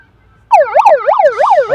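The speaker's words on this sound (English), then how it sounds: "That is a 3/4 time siren." A loud electronic siren marks three-quarter time at an AFL women's football match in London, bursting on after a quiet moment and wailing up and down in quick rising-falling sweeps.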